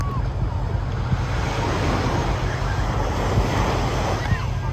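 Ocean waves wash and surge up a beach in a continuous rushing roar, with wind buffeting the microphone and faint voices in the background.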